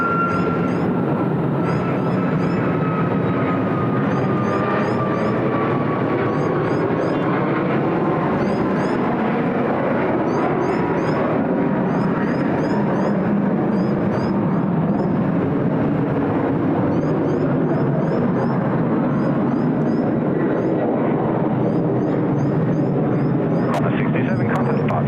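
A Qantas Airbus A330 on flight 67 to Bangalore rolls for takeoff on runway 34 left at Sydney Airport, its loud steady jet roar building and rising in pitch, continuous throughout with a faint whine overhead.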